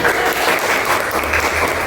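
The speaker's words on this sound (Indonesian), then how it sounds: "Beri tepuk tangan untuk Anggun" Classroom applause for a student, a dense steady patter of many hands clapping together at close range, sustained and even throughout without voices on top.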